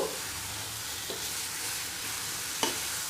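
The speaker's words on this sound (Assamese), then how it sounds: "এতিয়া মই ভাজি লওঁ" Steady oily sizzling of chili pickle frying over medium heat in a pan, with a few soft scrapes and one sharp clink of a spoon stirring against the metal.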